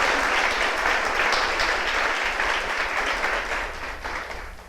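A church congregation bursts into loud, dense applause during a sermon, a continuous wash of clapping that holds steady and then tapers slightly at the end.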